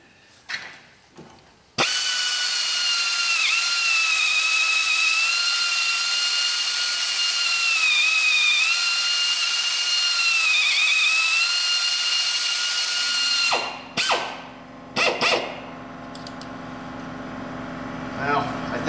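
A drill bores steadily into a stripped head bolt on a Toyota Rav4 2AZFE engine, a loud sustained whine that wavers in pitch, then stops and gives way to clanks and shuffling handling noises.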